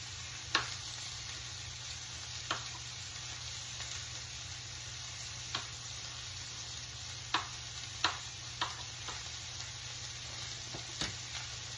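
Chopped jalapeno frying in a pan, a soft steady sizzle punctuated by occasional sharp clicks and knocks at irregular intervals, fairly quiet overall.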